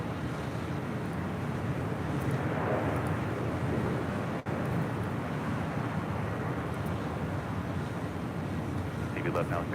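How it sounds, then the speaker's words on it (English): An EVA Air Boeing 777-300ER on departure at Los Angeles International Airport produces a steady, broad distant jet roar with wind rumble, continuing evenly throughout. "EVA Air Flight 5 departing to Taipei on a 777-300ER"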